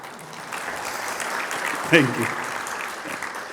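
An audience claps in a burst of applause for the sponsors at a personal finance seminar. The clapping is steady and moderately loud, and a voice speaks over it briefly.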